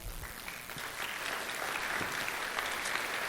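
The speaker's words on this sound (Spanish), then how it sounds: "Le damos un aplauso al Señor." Church congregation applauding during a worship service, a sustained wash of many hands clapping at moderate distance, fairly quiet and even throughout.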